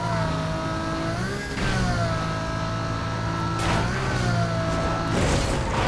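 Engine of a car in the racing video game Need For Speed Most Wanted, a loud, steady drone whose pitch climbs and drops as it revs through gear changes, heard alone without talk.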